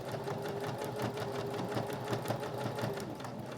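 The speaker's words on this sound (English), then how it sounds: "So we're just going to stitch across." Sewing machine stitching slowly across a padded fabric business card holder, a steady rapid mechanical rattle of the needle running continuously, close and even.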